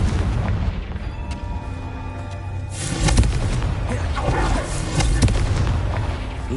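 Confringo fire spell blasts in Hogwarts Legacy, several booming explosions with sharp bursts that come one after another over a few seconds, loud and close, with game noise filling the gaps.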